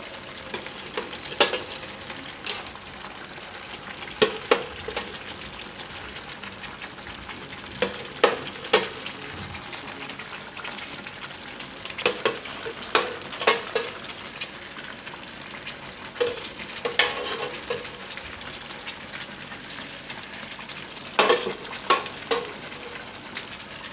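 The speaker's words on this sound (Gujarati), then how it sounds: "હવે ગેસ વધારી દે હું ને દૂધીને થોડીક વાર ગ્રેવીમાં પાકવા દે હું." Stuffed bottle gourd simmering in gravy in a pan on a gas stove, a steady sizzle and bubble with occasional louder spoon clanks and stirring scrapes throughout.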